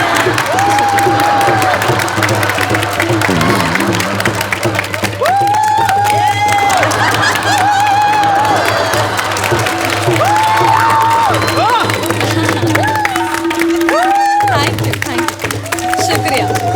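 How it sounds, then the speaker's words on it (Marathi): A loud comedy-show audience at a village music gathering applauds and cheers continuously, with whoops and shouts rising over dense clapping throughout. "अहो हे खूप झाला टाळ्या."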